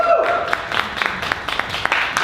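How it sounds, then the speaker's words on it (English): An audience applauds two guest speakers at an evening talk on mental health and burnout with scattered, moderately loud claps. A faint voice is heard briefly at the start. "give them a round of applause."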